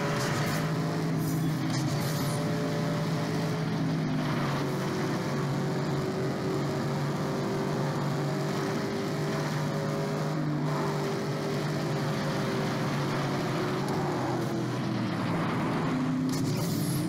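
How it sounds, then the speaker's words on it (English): Continuous droning car engines in the racing video game Gas Guzzlers Extreme, with steady tonal hum, loud and unbroken throughout, like racing vehicles running without pause. "I really feel like I'm hearing the cars right now."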